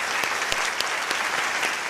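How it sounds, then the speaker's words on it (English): An audience at a Teacher of the Year ceremony gives a committee a round of applause, a dense, even wash of clapping with a few sharper claps standing out. "Let's give them one more round of applause."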